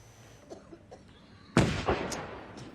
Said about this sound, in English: A gun salute and flight past ended the D-Day anniversary ceremony with the world leaders looking on.